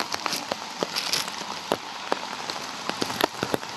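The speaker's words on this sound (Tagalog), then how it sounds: "Ay, nagpatila-tila ng ulan." Intermittent light rain falling in the afternoon, quiet patter of drops striking a surface in irregular close taps over a faint steady wash.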